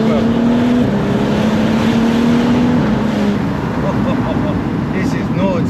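A turbocharged 570bhp BMW 135i engine drones loudly from inside the car, a steady held tone that slides slightly downward before fading into broad road and engine roar, and a voice is heard over it.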